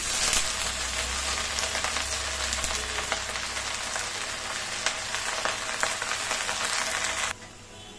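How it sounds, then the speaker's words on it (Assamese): Leafy greens hit hot mustard oil with fried onions and kalonji in a wok, giving a loud, dense, steady sizzle that carries on close by for several seconds before suddenly dropping away. "মই পিঁয়াজখিনি ভালদৰে ভাজি লৈছোঁ লৈ ইয়াতে দিলোঁ পাত শাকখিনি"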